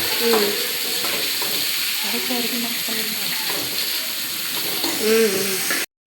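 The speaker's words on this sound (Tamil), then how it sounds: "பொன்னிறமாக ஆற வச்சு வதக்கிக்கணும் நல்லா" Curry leaves and whole spices sauté in a hot kadai until golden, a steady close sizzle and frying hiss with scraping stirs throughout.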